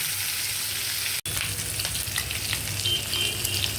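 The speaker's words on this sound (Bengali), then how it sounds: "এটাকে এখন আমি ভেজে তুলবো, একটু ভালো করেই ভাজতেছি।" Koi fish frying in oil in a pan, a close, steady crackling sizzle with light stirring noises throughout.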